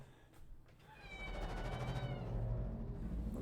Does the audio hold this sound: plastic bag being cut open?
no